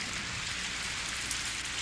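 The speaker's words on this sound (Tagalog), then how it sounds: "Umuulan!" Steady rain pours down, a dense, even hiss of drops on surfaces with no pauses and no voices.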